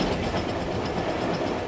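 A Stanier steam locomotive hauling a train on a holiday line: a dense, steady rumble and rolling clatter of carriages, loud and continuous, with no voices.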